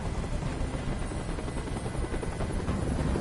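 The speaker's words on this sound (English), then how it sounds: "Tell that helicopter to get out of here." Helicopter in the video game Detroit: Become Human, a steady loud rotor roar with dense low-frequency chopping that holds throughout without a break.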